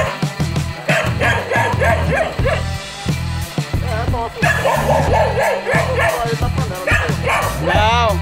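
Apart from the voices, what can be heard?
dog barking at a tegu lizard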